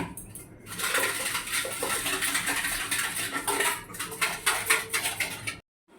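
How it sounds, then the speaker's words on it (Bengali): Eggs beaten with salt in a bowl for egg toast, a dense rapid clatter of utensil against bowl running steadily and close, stopping abruptly near the end. "ডিম দিয়ে লবণ দিয়ে এটাকে ভালো করে ঘেটে ডিম টোস্ট বানিয়ে নেব।"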